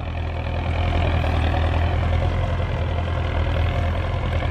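A Belarus 1025 turbocharged tractor engine runs close by with a loud, steady, low diesel drone and no break in level, with no speech over it.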